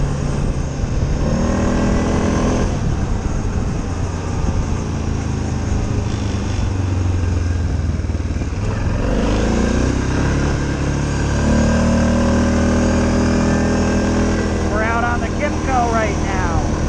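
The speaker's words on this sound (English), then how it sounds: "this is the quad I've been taking out doing the work" A quad ATV engine idles and revs steadily close by on a Connecticut trail, with a person talking over it throughout.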